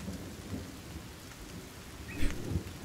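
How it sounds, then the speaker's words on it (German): Steady rain patters with a low rumble of thunder, including one heavier roll near the end, at a soft, distant level, in the video game The Forest. "Es regnet, geil."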